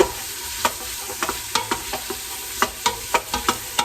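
Wooden spoon stirring diced apples through melted butter in a pot, a soft sizzle punctuated by a dozen or so irregular scraping knocks, close and clear with no talking.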